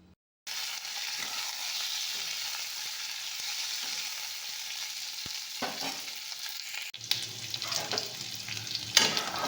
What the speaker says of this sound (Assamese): কাটি লোৱা পিঁয়াজ আৰু কেপচিকামখিনি কেৰাহীত বহাই দিছোঁ